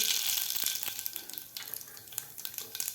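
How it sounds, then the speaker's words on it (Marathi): Mustard seeds dropped into hot oil in a heavy pan, a close crackling sizzle with sharp scattered pops and spits over a steady frying hiss. "तेल आपलं गरम झालेलं आहे त्यामध्ये घालायचे आपल्याला अर्धा चमचा मोहरी"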